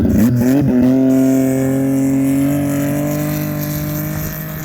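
A boat motor runs fast and loud, a steady high engine whine that settles into an even drone after a brief rev at the start, with no talking.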